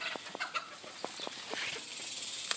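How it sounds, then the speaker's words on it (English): Backyard chickens squawk and cluck for their grain, a series of short sharp calls in irregular bursts, fairly close, over a noisy outdoor background. "my chickens are screaming"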